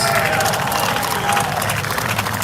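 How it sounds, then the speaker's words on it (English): Crowd at a reparations convention rally clapping and cheering, a continuous roar of hands and voices with a steady, full texture, some talk and a held vocal tone within it. "clap it up for your black selves"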